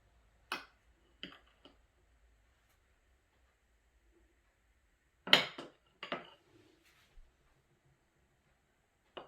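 A knife dices butter into small cubes on a board for an apple crisp, giving sparse, sharp taps in short clusters separated by long silent gaps.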